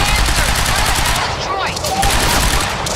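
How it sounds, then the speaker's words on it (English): Sustained automatic gunfire crackles through a Quantum Break firefight at a university, dense rapid bursts staying loud and close for the whole stretch with no pauses. "We're under fire!"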